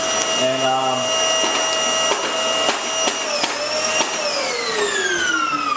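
A vacuum cleaner whines steadily and loudly as it cleans an AFX slot car track and picks up iron filings, its pitch shifting as it works, with faint rattles and clicks along the way.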